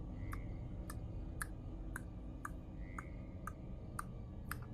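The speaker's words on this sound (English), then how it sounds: "as the party goes down, you hear this sort of clicking." Steady clicking, like a mechanism ticking, repeats at an even rhythm about twice a second, faint over a low rumbling background during a tabletop game session.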